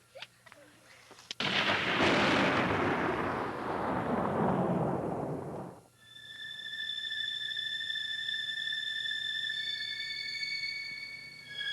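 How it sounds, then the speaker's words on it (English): A low, broad rumble like thunder rolls out of a clear evening sky, swelling loud for several seconds and then cutting off, followed by thin steady high tones. "Out of a clear evening sky, they heard a sound like thunder."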